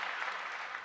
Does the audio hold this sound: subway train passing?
no